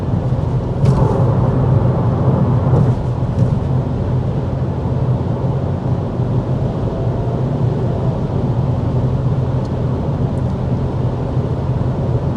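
Steady low road rumble and engine drone inside a 2024 Mitsubishi Mirage cruising at 55 mph with the fan on speed 1, constant and moderately loud with a few faint clicks.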